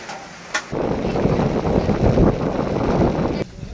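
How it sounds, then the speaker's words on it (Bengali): Rain pours beside a river ghat near a tea stall in Kurigram, a steady broadband hiss that starts abruptly, holds evenly for about three seconds and then cuts off. "আবার বৃষ্টি নেমে গেছে"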